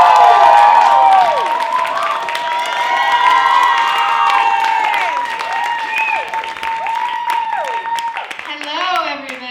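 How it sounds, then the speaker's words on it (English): An audience breaks into loud applause and cheering for a performer at a striptease show. Claps patter densely throughout, and whoops and shouts rise over the clapping in repeated bursts. "please give her a really, really warm round of applause and a big welcome"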